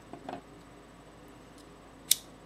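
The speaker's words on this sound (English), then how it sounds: "Kind of hollow out that center section there with my scissors to make sure it's not mashed up." Scissors hollow out the centre of a reverse marabou tube fly, giving a few soft snips early on and one sharp, close click near the end against a quiet room.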